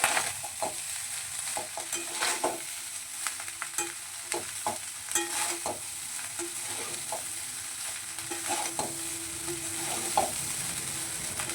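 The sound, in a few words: frying sugar, green chillies and black pepper for fried rice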